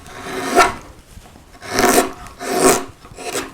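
A refurbished woodcarving gouge cutting into wood, three or four close, loud rasping strokes, each rising and fading over about half a second with short pauses between, no talking.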